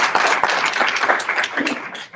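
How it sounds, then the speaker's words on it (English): An audience applauds at an ethical leadership summit, a brief dense burst of many hands clapping close and steady before fading at the end. "Let's give him another round of applause."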